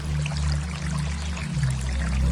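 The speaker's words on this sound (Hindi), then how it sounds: "उधर झरने की आवाज़ आ रही है" Cartoon waterfall near a lake, a steady rushing pour of water with a strong low roar that runs without a break the whole time and has no voices.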